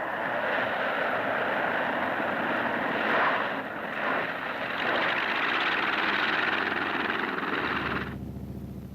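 A U.S. Army L-19 light aircraft drones with a steady engine roar and propeller hum, loud and continuous, before the sound cuts to a low rumble near the end.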